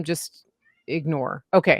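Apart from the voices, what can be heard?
cat meowing in the background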